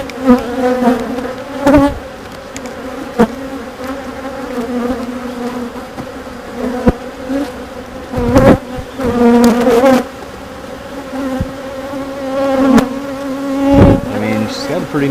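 Honey bees swarm and buzz loudly around an open backyard beehive during a brood inspection, a dense steady drone with rising and falling swells and occasional sharper bursts close by.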